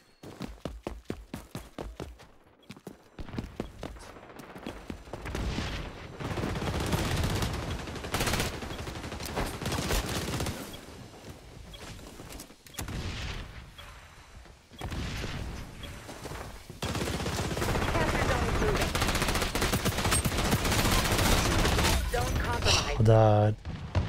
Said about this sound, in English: I got shots from everywhere